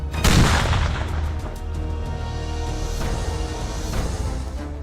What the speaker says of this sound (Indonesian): 2, 1, ledakan!